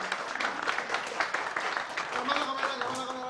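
An audience breaks into applause at an Indonesian football talk show, a dense patter of clapping running under a presenter's voice throughout.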